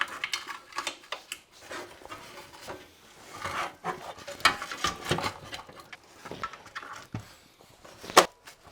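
Nylon zip cable ties ratcheting tight around power and data cables inside a custom-built PC case, a run of small rasping clicks and rubbing taps, close and fairly quiet, with no talking.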